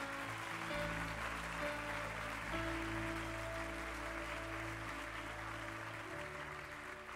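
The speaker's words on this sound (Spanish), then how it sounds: "Si tú le vas a aplaudir, apláudele de verdad." A church congregation claps in sustained, even applause that sounds distant and fairly faint, with steady low tones held underneath.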